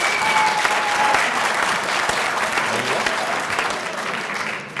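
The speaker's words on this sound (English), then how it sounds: "So can we formally give him a round of applause," Loud, continuous applause fills a university debate hall at UKZN Westville, with a steady crowd of clappers honouring a panel guest, easing off gradually toward the end.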